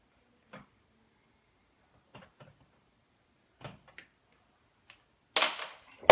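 An RJ45 Ethernet cable is snipped with a cutting tool, a handful of small, sparse clicks and snaps in a quiet room, ending in a louder crunching cut.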